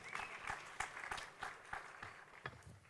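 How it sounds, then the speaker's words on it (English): Audience applause fills the room at a tech conference talk, a steady wash of many hands clapping with sharp accents throughout, fairly loud and unbroken, with no voices on top. "Give a round of applause for that man."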